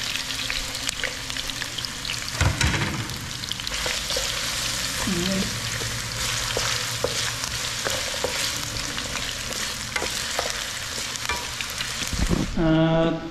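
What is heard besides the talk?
potatoes frying in oil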